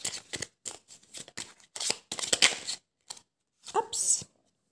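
Tarot cards handled and laid down: a series of short, crisp card snaps and slides, close and intermittent, with a few quick flicks near the end.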